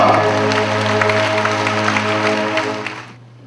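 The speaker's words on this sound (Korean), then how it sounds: "주님께 영광의 박수 올립니다." A church congregation at an evening worship service applauds steadily over sustained organ or keyboard tones, the clapping continuous and fairly loud before cutting off near the end.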